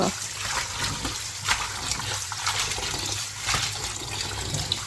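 Data shak leafy greens being rinsed by hand in water in a home kitchen, a continuous splashing and sloshing with soft irregular surges, moderately close and steady throughout.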